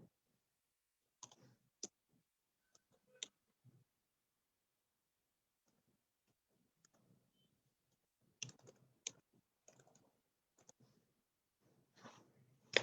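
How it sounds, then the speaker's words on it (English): Scattered keyboard key clicks tapped out in short bursts with pauses between them, entering a phone number, quiet and close with no voices over them. "I think I'm just gonna type my number here"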